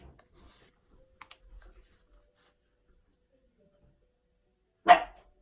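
A single short dog bark rings out near the end after near silence, preceded by a few faint tapping sounds in a quiet room.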